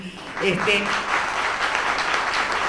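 Studio audience applause greeting the guest, political scientist José "Pepe" Nun, on an Argentine evening television interview from 2002, a steady clapping wash filling the whole short stretch with faint voices mixed in at the start.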